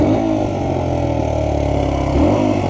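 Motorcycle engine revving hard at full throttle, a steady loud drone that dips briefly then climbs again near the end, heard close and alone.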